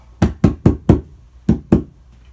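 Six sharp knocks on a homemade drum, four in a quick even run and then two more after a short pause, each with a short woody ring from the skin and shell.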